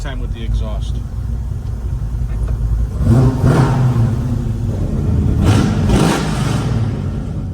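A 1967 Chevrolet Chevelle SS396 V8 rumbles deep and loud through its exhaust, swelling into two strong revs, with someone talking over the steady low idle.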